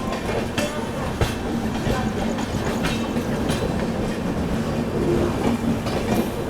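The Kashi Mahakal Express (Indore–Varanasi) pulls out of Jhansi station, wheels clattering over rail joints in a steady loud rumble heard from on board.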